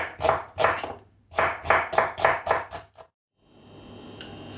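A knife chops onions on a board in quick bursts: a run of strokes, a pause, then a faster series of crisp cuts, close and clear with no talking.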